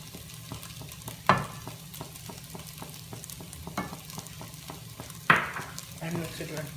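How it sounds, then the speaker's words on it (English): A spoon stirs sabudana khichdi in a pan, scraping in repeated strokes with two sharper knocks, over a low steady sizzle, quiet and close. "And mix it well."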